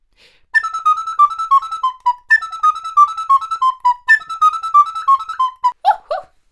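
A recorder plays a bright, breathy, quick repeating riff from the folk tune 'The Bonfire' in short phrases, clear and close, with no other sound underneath.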